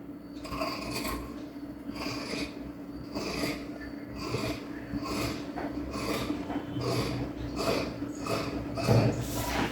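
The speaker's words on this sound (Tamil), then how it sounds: "இந்த ஸ்டிச்சிங் லைன் கட் பண்ணிடலாம்." Scissors cutting through a stitching line in fabric during sewing, with close repeated rasping snips in an uneven rhythm over a faint steady hum, and no voice.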